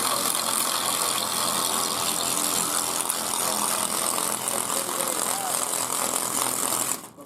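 A SEESII cordless battery-powered pressure washer sprays a plastic sheet intended for a greenhouse, giving a steady, loud, close hiss of water jet with a mechanical buzz throughout, cutting off abruptly at the end.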